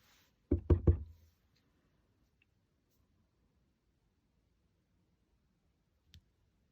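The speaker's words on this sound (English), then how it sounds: "stamp the birthday sentiment onto the bottom of your die cut front piece" A rubber stamp presses a birthday sentiment onto a die-cut card front, giving a quick cluster of three close knocks followed by long silence and one faint tap near the end.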